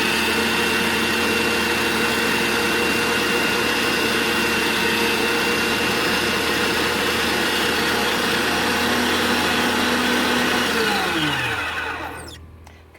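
An electric food grinder runs loud and steady as it grinds cucumber and charred red onion for relish, its motor whining without a break before spinning down and going quiet at the very end.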